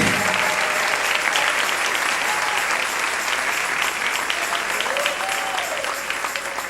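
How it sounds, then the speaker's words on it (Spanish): A church congregation applauds at a night service, a loud, dense and sustained wash of many hands clapping that fills the space, with faint voices calling out and a slight fade toward the end. "Dale un aplauso al Señor en esta hermosa noche."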